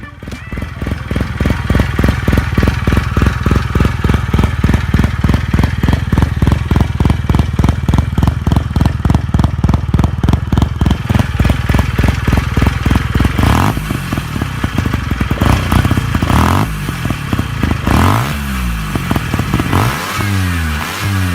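A rotary-engined W2000 motorcycle idles loudly nearby with a fast, even pulsing throb, then revs up and down in several rising and falling sweeps toward the end.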